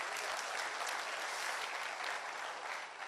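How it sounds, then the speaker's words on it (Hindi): A large audience at an Amway motivational gathering bursts into loud, dense, continuous applause that stays full and even throughout, with no voices over it. "जोरदार ताली हो"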